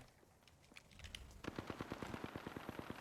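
Rapid automatic gunfire in Apex Legends, a fast steady burst of evenly spaced shots that starts abruptly after a quieter stretch of distant pops and keeps firing to the end.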